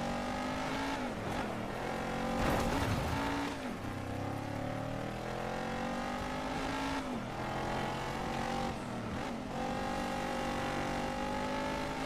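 The W5 Titan off-road vehicle in the Dirt 5 racing game gives a continuous, loud engine drone whose pitch rises and falls through gear changes and revs, with some tire noise and no talking.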